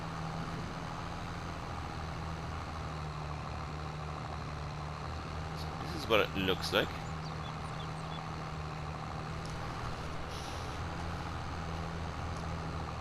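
A tractor pulling a beaverator drives along a road in Farming Simulator 22, its engine giving a steady, even drone throughout, with a brief rattling clatter midway and someone speaking briefly over it.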